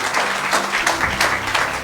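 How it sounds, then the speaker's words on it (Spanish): A church congregation applauds loudly during a family worship service, a dense steady wash of many hands clapping with swells throughout, no voices standing out. "Aplaude fuerte al Señor."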